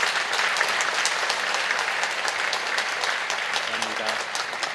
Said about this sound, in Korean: 우리 다시 한번 크게 박수로 감사하겠습니다.